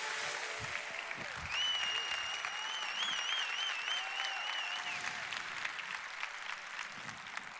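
Conference audience in Stockholm applauding as a speaker walks on stage, a steady, full wash of clapping that sounds a little distant, with whoops or whistles rising over it.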